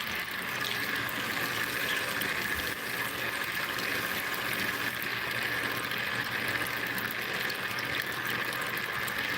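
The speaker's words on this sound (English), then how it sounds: "connect your sluice to the hose before you turn your water on" Water from a garden hose runs steadily through a small homemade gold sluice, a constant broadband wash with no pauses and no voices.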